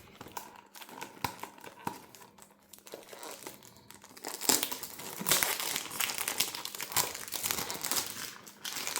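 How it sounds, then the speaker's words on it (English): Crinkling and tearing of the packaging of a Jeremy Fragrance Office for Men perfume box being unboxed, close crackly rustles that grow louder and busier toward the end. "Let's unbox Office for Men."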